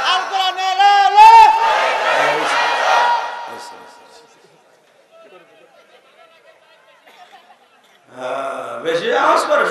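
A crowd at an Islamic sermon loudly chants the takbir in unison, a strong collective shout that fades to near quiet before a second loud burst of voices rises again.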